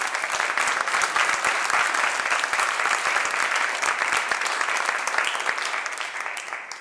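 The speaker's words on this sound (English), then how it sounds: "Let's give them all a big round of applause." Audience applause at an annual gala for a performance garage, a dense, steady clapping from a large crowd that fills the whole stretch and fades slightly at the end, with no talking over it.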